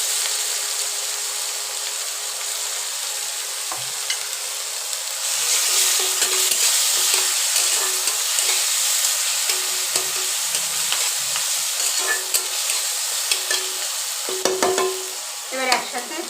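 Grated ginger and garlic with chopped tomato fry in a pan, a steady close sizzle that swells louder partway through, with frequent stirring scrapes and clinks; no voices.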